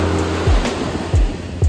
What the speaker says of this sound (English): Misquamicut Beach is on the Atlantic Ocean and has waves